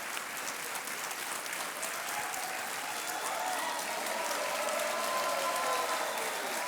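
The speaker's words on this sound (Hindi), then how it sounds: "तालियां बजती रहें।" A studio audience on a television quiz show applauding steadily, a dense, even wash of clapping that holds at full strength for several seconds, heard alone without speech.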